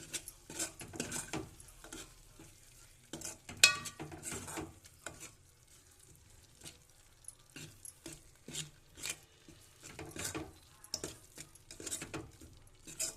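A spoon scrapes and clinks against a pan of curry with chilli powder, turmeric and salt in irregular bursts, with quiet gaps between stirs and a faint sizzle underneath.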